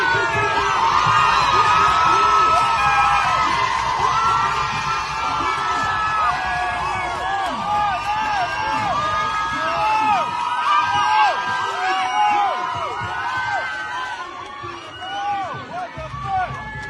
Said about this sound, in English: Look at these thugs cheering on police brutality against a journalist in Canada.